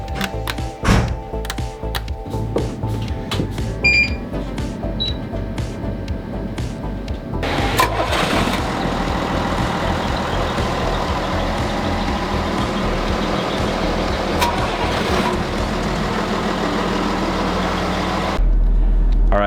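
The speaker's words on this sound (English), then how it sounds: "All right, we got the engines on." Trawler boat engines crank and come up to a steady running rumble, a dense low drone with clatter and brief beeping early on, continuing loud and unbroken throughout.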